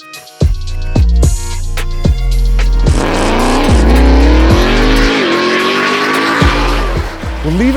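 A 1,300 hp custom widebody Dodge TRX on 38-inch tires spins its wheels with loud, wavering tire squeals, after a few sharp engine blips at the start, close and dominant, with no talk.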